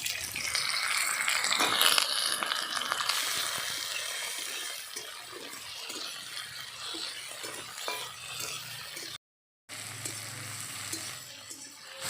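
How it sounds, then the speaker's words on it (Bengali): Chopped tomato going into a pan of frying onion and mushroom for mushroom kosha, a spoon scraping and stirring in steady rattling strokes over a continuous close sizzle, with a brief dropout near the end. "টমেটো কুচিটা এখন দিয়ে দেবো।"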